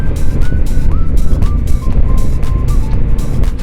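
A 2025 Honda Africa Twin motorcycle riding on the road, its engine a steady loud drone with wind rush, with rising and falling pitch as the rider moves through the revs.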